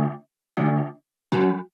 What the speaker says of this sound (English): this electric slap bass,